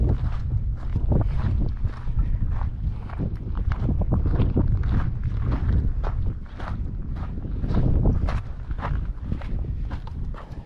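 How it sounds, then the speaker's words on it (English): Gusty wind buffets the microphone outdoors at a custom pool build site, a steady low rumble with bursts and thumps throughout, no talk. "And it's a little windy, so I'm gonna try to block the wind"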